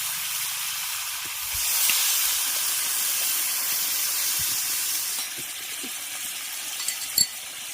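Water poured into a hot pan of chopped taro (kochu) bursts into a loud, steady hiss that holds for several seconds, then tapers slightly with faint crackles and a small clink near the end; no talking.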